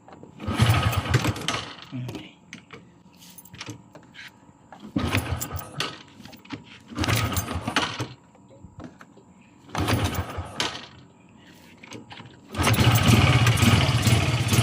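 Modenas GT128 motorcycle being kick-started, a few short engine bursts that catch and die between pauses, then a sustained loud run at the end; a voice speaks briefly.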